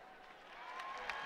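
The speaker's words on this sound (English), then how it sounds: "The crowd rejoices." Basketball arena crowd at a women's college game between Utah State and New Mexico, cheering and applauding steadily across the clip with a slight swell and a sharp clap near the end, no voices standing out.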